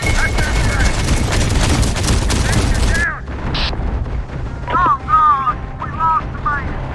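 Dense automatic gunfire and explosions rage loudly in the Terminator: Dark Fate - Defiance battle, then cut off abruptly to a quieter scene with scattered radio-style voices and faint background rumble.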